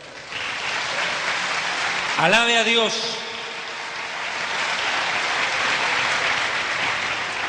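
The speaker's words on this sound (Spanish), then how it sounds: "un fuerte aplauso al Señor" A church congregation claps in a continuous, rain-like wash of applause that swells again toward the end, while a voice calls out briefly over it partway through.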